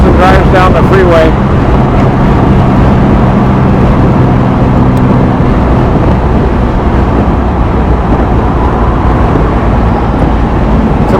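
A 1970 Jaguar XKE Roadster cruises down the freeway, a steady low engine and road rumble with wind buffeting across the open car, loud and continuous throughout.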